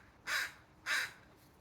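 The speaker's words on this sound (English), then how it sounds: "crows have come back to visit" Crows cawing outdoors, two distinct harsh caws spaced under a second apart, clear but somewhat distant against a quiet background.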